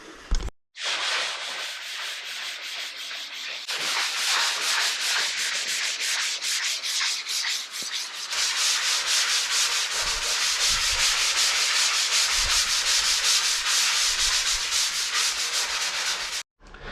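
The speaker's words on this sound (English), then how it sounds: "Okay, that's sanded it all by hand." Hand sanding of a hallway wall during a renovation of a property abandoned for 20 years, a steady, close, continuous rasping scrape that runs almost the whole time with slight shifts in stroke, with no voices.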